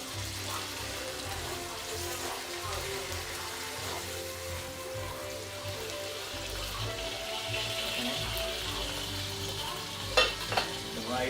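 Pork chops fry in a pan on a stove, giving a steady, moderately quiet sizzle that continues throughout, with a couple of brief clinks near the end.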